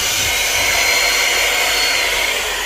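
A blower dryer drying cats' fur after a wash, a loud, steady, close rushing roar of air that holds without pause throughout.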